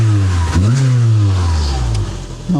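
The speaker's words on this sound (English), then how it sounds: "Before we turn off the engine, let's give it a little bit of a rev," A 2002 Volkswagen Polo GTI, a Japan-auction import, revving from idle: loud, close engine note that rises sharply, holds a raised pitch, then settles back down.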